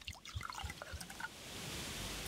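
Water is poured into a growing box in the survival game Subsistence, starting with a few small drips and gurgles and then turning into a soft, steady rushing stream, faint and alone.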